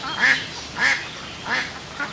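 Ducks quacking on a pondside duck farm, four loud, raspy quacks in an even rhythm close by, with no talk.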